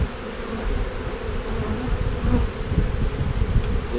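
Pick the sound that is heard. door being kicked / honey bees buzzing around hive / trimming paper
honey bees buzzing around hive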